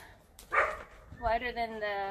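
Dogs barking nearby during a yoga class: one sharp bark, then a drawn-out, whining howl-like vocalization, heard with a voice in the room.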